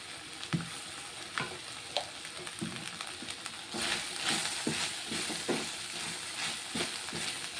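Sliced okra sizzles steadily in a pan, its slime making it stick to the bottom, while a spatula stirs and scrapes in a regular rhythm. The frying hiss grows louder partway through, with no speech.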